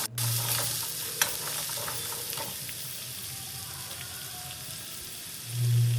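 Finely chopped onion and tomato fry in oil with cumin, mustard seeds and curry leaves, giving a continuous crackling sizzle with scattered pops and a few brief scraping stirs near the start and end.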